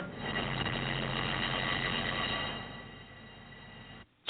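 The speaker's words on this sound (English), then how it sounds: "The captain sounds the general alarm to call out the response team." A ship's general alarm sounds aboard a vessel, a steady, moderately loud electronic tone that holds for about two and a half seconds, then drops away quickly.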